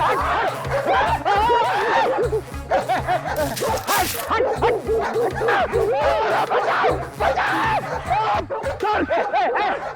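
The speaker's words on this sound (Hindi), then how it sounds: "कुत्ता है सर, अगर पेट में काटेगा ना 14 इंजेक्शन लगेंगे" A dog barks repeatedly in a lonely village spot during a CID crime drama scene, loud and close in sharp rhythmic bursts mixed with people talking and laughing, with dramatic background music underneath.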